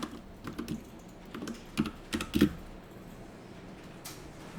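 Scattered computer keyboard keystrokes in short clusters, close and fairly quiet, including a few firmer single presses like the Enter key, with no one talking.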